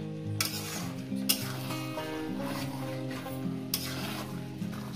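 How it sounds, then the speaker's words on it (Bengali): Chicken stir-fried in a wok with nuts, a steady close sizzle under the repeated scrape and clack of a spatula stirring against the metal, no voices, with a faint tonal hum underneath. "তো বন্ধুরা দেখছেন আমি কিভাবে কষিয়ে নিচ্ছি"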